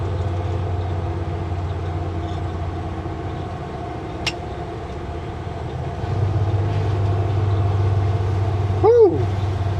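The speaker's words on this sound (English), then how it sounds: "Okay, we're going to downshift." A truck engine drops a gear while hauling under reduced power, its steady low drone rising in pitch and loudness partway through and then holding a heavier, louder rumble, with a brief squeal near the end.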